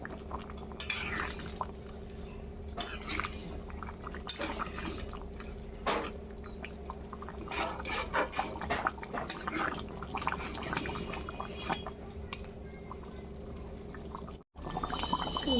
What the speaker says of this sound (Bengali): মাংসটা মাঝে মাঝে নেড়ে দিতে হবে যাতে নিচটা লেগে না যায়